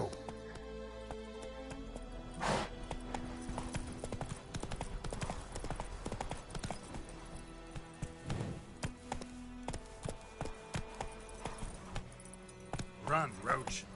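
Geralt's horse Roach gallops in The Witcher 3, rhythmic clip-clop hoofbeats pulsing steadily beneath game music while a person talks over them at intervals.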